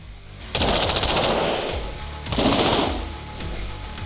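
An automatic rifle fires two long bursts at close range during a training session with an elite French police unit. The shots are loud and rapid, rattling with a hard echo, and a short pause separates the two bursts.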